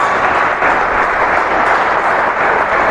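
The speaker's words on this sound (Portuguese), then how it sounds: "Dê uma salva de palmas para Jesus" A church congregation bursts into sustained applause during a Baptist service, a dense, even wash of many hands clapping together, loud and continuous for a few seconds.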